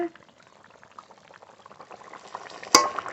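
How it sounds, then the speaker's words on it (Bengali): Curry broth with potatoes boiling in a pot, soft irregular bubbling and popping that builds gradually, close, ending in a sharp clink near the end. "জল এবার ভালো করে ফুটিয়ে নেব ঝোল খুব ভালো করে ফুটে গেছে"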